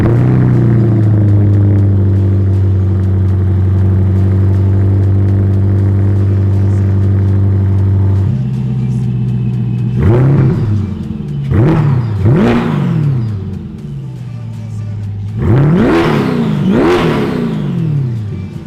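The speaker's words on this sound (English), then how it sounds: "That deep American muscle car V8 with the Procharger whine, very beautiful sound." Procharged Corvette C8 E-Ray V8 runs at a steady loud idle, then rips through several sharp revs that rise and fall, with supercharger whine riding over the deep exhaust roar, close and without talk.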